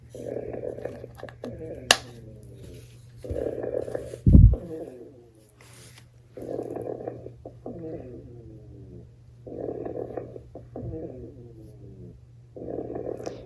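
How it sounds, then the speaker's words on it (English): A Chongker Percy Dog 1.1 interactive robot dog toy makes a soft, rhythmic purring snore in regular pulses about every three seconds, close and quiet, with a sharp click partway through. "she will just purr like this, but it's like a sleeping sound, kind of a little snore."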